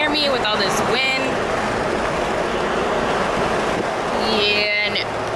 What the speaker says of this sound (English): I don't know if you guys can even hear me with all this wind.